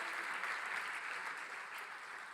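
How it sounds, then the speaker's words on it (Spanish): A church congregation at a Christian intercession prayer service applauds steadily, a soft, even wash of clapping at a distance, with no speech over it. "Vamos a dar un aplauso fuerte a Jesucristo."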